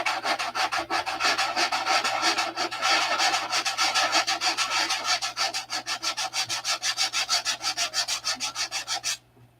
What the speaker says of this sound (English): these curved areas are about the only area that I'll sand open-handed like this.